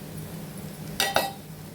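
Two quick metallic clinks of a spoon against a bowl while spice powder of ground coriander and sesame is mixed with salt, brief and close over a quiet background.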